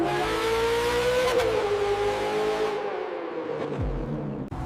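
A vintage car fitted with a Formula 1 engine revs hard and close, a loud high-pitched whine climbing and holding, then dropping away toward the end.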